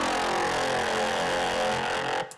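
A dense, buzzy synthesized vocal growl without any EQ band-reject scooping plays loud and continuously for about two seconds, then cuts off abruptly, with no talking.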